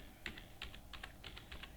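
Someone types on a computer keyboard while entering vouchers in Tally Prime accounting software, giving roughly a dozen light, quick keystrokes in an uneven rhythm, quiet and close, with no voices.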